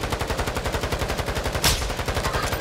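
Rapid sustained automatic fire from akimbo weapons in Call of Duty Warzone, a fast even rattle of shots, close and loud, with a brief sharper burst partway through.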